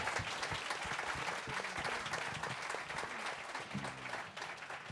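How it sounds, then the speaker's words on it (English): Audience applause for the original Spinners, the soul vocal group, at a live event: steady dense clapping fills the whole stretch at moderate level, with some faint voices mixed in. "give the original Spinners a round of applause"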